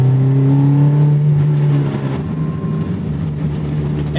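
A 2001 Toyota MR2 Spyder with a swapped 2ZZ engine revs hard with a strong, close droning tone. It then eases off partway through into a lower, rougher engine note.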